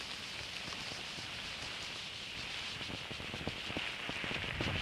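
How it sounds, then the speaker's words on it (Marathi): Rain falling with wind outdoors: a continuous, dense hiss of drops on surfaces with gusty wind noise, steady throughout and gently swelling near the end, with no voices. "हे पहा सुंदर असं पाऊस वारा वेळा लागतो आहे"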